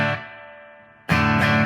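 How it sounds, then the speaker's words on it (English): An electric guitar chord rings through an amp's spring reverb, decaying with a shimmering tail before a second loud strum rings out. "This is a spring reverb."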